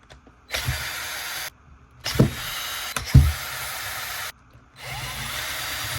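Mechanical whirring and clattering from work on a 2005–2009 Ford Mustang GT throttle body as a T20 Torx driver backs out its five bolts, coming in several close, separate bursts of a few seconds each with short pauses between them.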